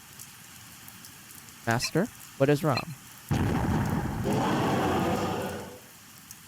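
Steady rain hisses and patters in a video game, rising to a dense wash for a couple of seconds after a short spoken line and a few game sounds.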